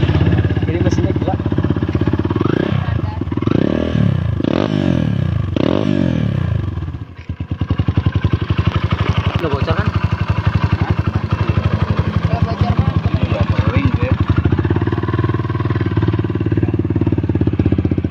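A Kawasaki KLX motorcycle fitted with a Neorifum FFRacing exhaust gives several sharp rising revs, then settles into a loud, rough, rapid rumbling idle. Voices talk over it.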